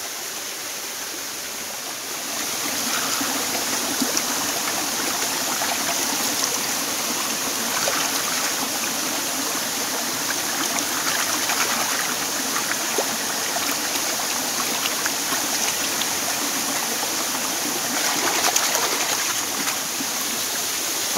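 Continuous rushing flow of a stream near a waterfall, close by, with faint splashes as hands are washed in the water; no talking.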